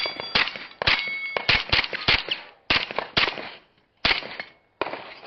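At a local steel shooting match, gunshots ring out with bright metallic clangs from steel targets, a rapid series of sharp, loud impacts in quick clusters with brief pauses between strings.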